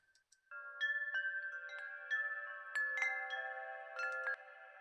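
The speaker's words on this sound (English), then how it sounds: "the Adaptiverb actually adds music to this harmonic reverb" Shimmering sustained tones from the Adaptiverb harmonic reverb effect swell and overlap with a long ringing tail, each new note blooming into a lush, harmonically rich wash.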